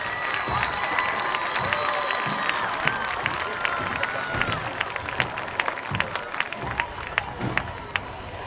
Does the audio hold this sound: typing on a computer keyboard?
no